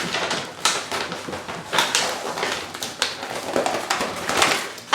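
Too Faced gift wrapping paper crinkles and tears as a present is unwrapped, crisp irregular rustles and rips close by, continuing for several seconds with no talking.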